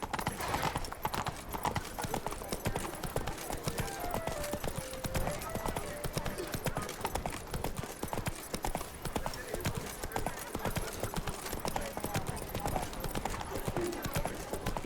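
Roach, a horse in The Witcher 3, gallops steadily with a fast, unbroken drumming of hooves throughout, moderately quiet, while a person talks now and then over the running.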